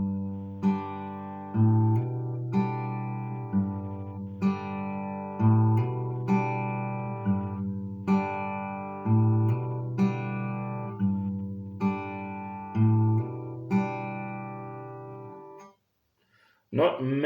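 The rhythm of a song is played slowly on guitar, with regular plucked chords and bass notes in an even, repeating pattern that rings clearly up close before a brief pause near the end.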